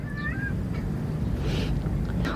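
A cat gives a few short meows near the start, then goes quiet over a low room hum, with faint background noise and no clear speech.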